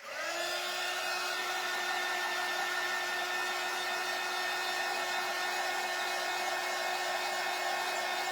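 A hair dryer blows on a craft jar for a pumpkin lantern, a steady close whooshing roar with a constant motor whine that ramps up in the first half second and then holds evenly, no voices.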